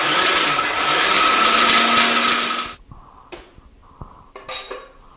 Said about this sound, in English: So just put the top back on and blend it one more time just to get everything incorporated.